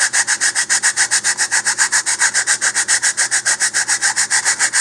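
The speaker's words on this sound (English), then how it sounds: "I can rotate the fin and keep my sandpaper steady" Wooden model rocket fin for an Estes Big Bertha rubbed on 100 grit sandpaper, a close, loud, rhythmic scratchy rasp of quick even back-and-forth strokes, about five per second, alone without talk.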